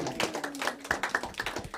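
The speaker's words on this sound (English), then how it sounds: "Give her a round of applause." A few hands clap quietly in a studio for a brief, sparse round of applause, with the individual claps distinct and unevenly spaced.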